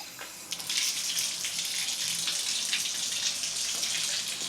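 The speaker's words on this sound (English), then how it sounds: "Not a lot of water pressure, that's for sure." Hotel shower running with low water pressure, a steady close hiss of spraying water that continues evenly without talk.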